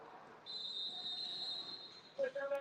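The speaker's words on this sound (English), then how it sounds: "Whistles being blown here." A referee blows a whistle at a basketball game: one sustained, piercing blast lasting about one and a half seconds over crowd noise, followed by a voice talking.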